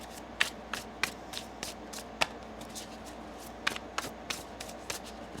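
Tarot cards being shuffled by hand: a series of quick, crisp riffling flutters and light snaps in bursts, close and moderately soft, with no talking.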